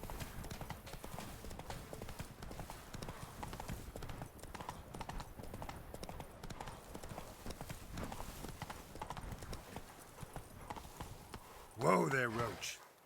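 Roach, the horse in The Witcher 3, trots with a steady, busy clip-clop of hooves throughout, ending in a loud snort or whinny near the close, with occasional talk over the gallop.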